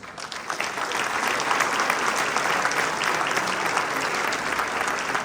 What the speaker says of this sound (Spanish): Fuerte aplauso para el maestro Blas Mora Mora, nuestro jefe de departamento